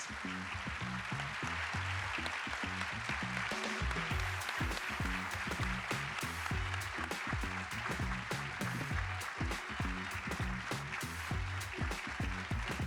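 A lecture audience claps, uneven hand claps mixed with music-like tonal sounds underneath, moderately faint and continuous.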